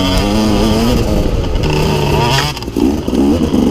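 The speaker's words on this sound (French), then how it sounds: "Le gars il fait des descentes en dérapage." A KTM 250 EXC trail motorcycle skidding down a descent, its engine loud and close, revving and warbling unevenly with a brief dip in the sound near the end.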